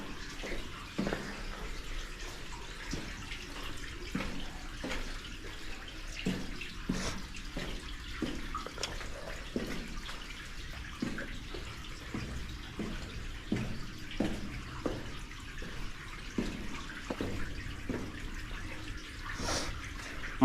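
Water runs and trickles steadily through an underground coal mine roadway, a faint, continuous wash with scattered drips and splashes and no voices.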